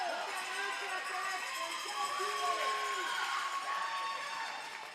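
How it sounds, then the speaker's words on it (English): Texas cheering squad at a race event, a crowd of voices shouting and whooping in a continuous wash of cheering, heard at a moderate distance for several seconds. "the Texas cheering squad is on fire this morning"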